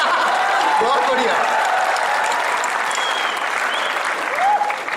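Loud, sustained applause and clapping from a crowd at the Panache-8 event at VIT Campus, Jaipur, a steady dense roar filling the whole stretch, with a voice faintly audible underneath.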